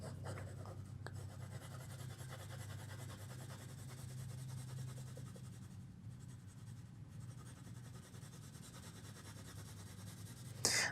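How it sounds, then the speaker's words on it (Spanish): A pencil shades steadily on paper with increasing pressure, a continuous soft scratchy rubbing that persists for several seconds, close but faint over a low room hum. "Sigo apretando cada vez más el lápiz porque me doy cuenta que esto no está oscuro lo suficiente."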